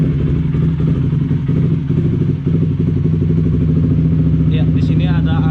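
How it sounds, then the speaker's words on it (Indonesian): A motorcycle engine idles steadily and loudly throughout, with a constant low rumble under a faint clatter, running for an exhaust O2 sensor and air-fuel ratio check. "Kita hidupkan dulu mesinnya biar kalian bisa tahu angka AFR-nya secara jelas."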